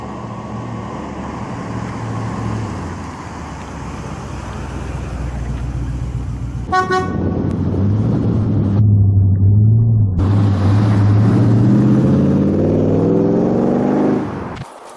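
A Beaufort car fitted with a 3.5 litre Rover V8 rumbles steadily up close, with a sharp clatter partway through before the engine note deepens and holds a loud, continuous drone.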